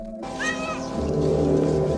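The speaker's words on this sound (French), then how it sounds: "À bord du navire, il y a un chat tout à fait ordinaire." A cat aboard the spaceship in the film Alien gives a clear, close meow near the start, followed by a low, steady rumbling hum of the ship's interior.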